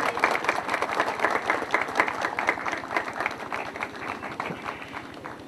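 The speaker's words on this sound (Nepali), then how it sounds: "जोरदार ताली के साथ धन्यवाद" Sustained audience applause with dense, steady clapping from a large crowd at a monastery management committee ceremony, loud and continuous with a few louder claps standing out.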